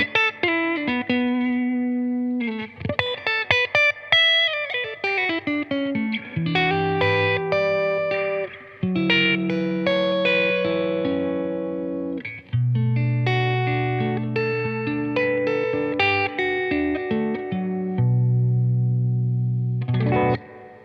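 An electric guitar played through a Boss pedal simulating a Fender '65 Deluxe amp rings out in a run of chords and single-note phrases, clean-to-driven with reverb and chorus-like shimmer, played alone with no talk.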